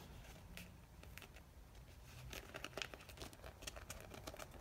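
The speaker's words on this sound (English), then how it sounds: "If I don't stop tearing up these stickers" Washi stickers are torn up by hand at close range, giving quiet crinkling and scattered short tearing rips that grow busier and sharper toward the end.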